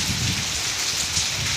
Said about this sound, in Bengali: প্রচণ্ড বেগে ঝড় আর তার সঙ্গে বৃষ্টি